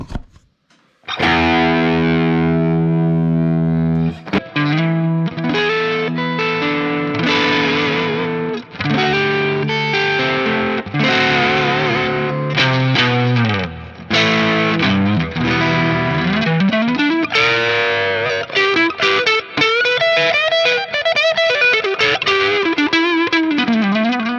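Electric guitar on a clean amp channel through a chorus clone pedal and reverb, playing sustained chords and then single-note melodic lines, loud, shimmering and swirling with a lingering wash of reverb.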